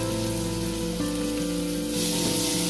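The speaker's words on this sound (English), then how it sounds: "Then I'm adding 2 medium-sized onions." Onions sautéing in hot oil with crushed garlic in a pan, a dense continuous sizzle with a steady tonal hum running underneath, constant and fairly loud throughout the short stretch.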